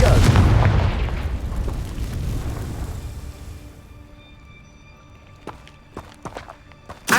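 A Confringo fire spell in the Hogwarts Legacy video game on PS5 bursts loudly at the start, its rumbling blast decaying over several seconds into quieter ambience broken by a few sharp clicks and small thuds.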